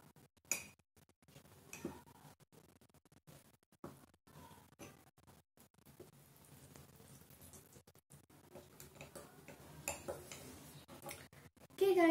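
Soft ticks and light clinks of a spoon stirring eggless cocoa and vanilla mug cake batter inside a mug, faint and irregular, in a quiet room.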